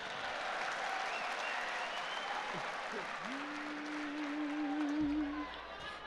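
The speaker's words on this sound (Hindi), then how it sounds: "एक बार ताली बजा दो।" Audience at a grand mushaira poetry gathering in Indore claps, a soft, diffuse wash of applause heard from a distance while a voice and a brief steady tone rise above it.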